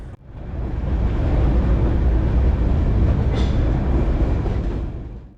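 Darjeeling toy train rolling down out of the hills toward the plains, a loud continuous rumble and rattle of wheels on rails with a brief squeal partway through, steady and close.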